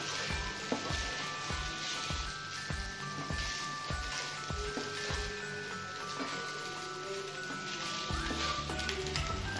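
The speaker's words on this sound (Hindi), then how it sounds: "अब हम इसमें राइस डाल देंगे। हम इसे अच्छे से मिक्स कर लेंगे।" Rice being stirred into Manchurian fried rice in a hot pan: steady close sizzling with a string of regular scraping, tapping strokes of the spatula throughout, no talking.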